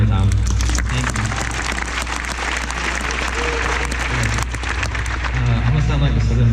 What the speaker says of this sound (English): Can we clap a little bit louder?